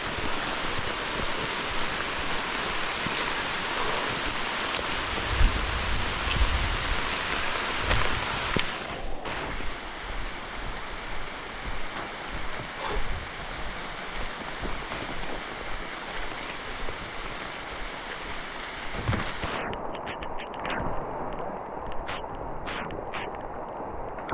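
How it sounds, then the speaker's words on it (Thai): Heavy rain pours steadily through a night patrol, a dense broadband hiss that holds for the full stretch with a few shifts in texture, close and loud with no talking. "ฝนตกอีกแล้ว"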